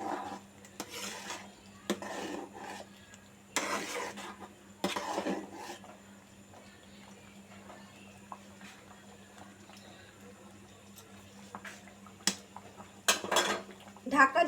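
Moong dal and egg stirred in a pan, with a spoon scraping and clattering against metal in several separate bursts amid quieter stretches, close by.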